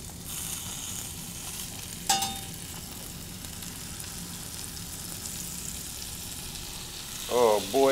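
Gruyere or Emmentaler cheese frying in a pan, a steady soft sizzle running throughout, with a sharp clink near the start and a voice starting to speak at the very end.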